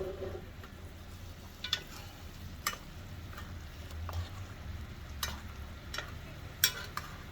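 Steak being basted in a hot pan, a low steady sizzle with scattered sharp spoon taps and spits, close and moderately soft.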